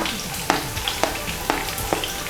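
Garlic, fennel seeds and a piece of cinnamon sizzling in hot oil, a steady close crackle with soft pops about every half second, no voices.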